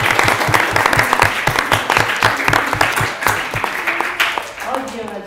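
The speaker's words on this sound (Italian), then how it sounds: "intanto fatemi un applauso" Steady loud clapping from a crowd at a workplace safety conference, with dense rhythmic hand claps filling the room and a voice speaking over it near the end.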